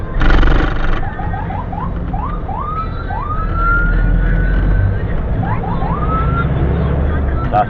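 A police patrol vehicle's siren wails in rising and falling sweeps, loud and close, heard from inside the vehicle over engine rumble, with a burst of radio or horn noise at the start.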